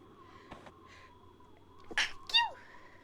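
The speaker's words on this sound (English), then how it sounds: "Oh, that was a sneeze." A short, sharp sneeze sound effect in a video game rings out clearly over quiet background music, followed right after by a second bright burst.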